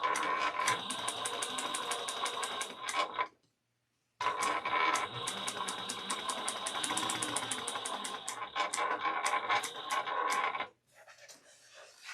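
Back stitching on a travel bag: the sewing machine runs in a rapid rhythmic whir, halts for a brief silence, then runs again at length before stopping, close and steady.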